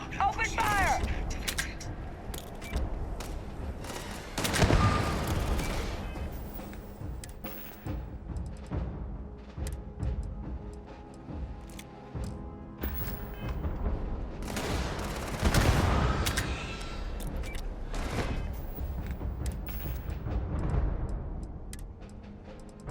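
Sustained gunfire aimed at Morphs in Starfield with Star Wars mods, a dense, busy clatter of shots with a couple of louder bursts standing out over layered game noise and music.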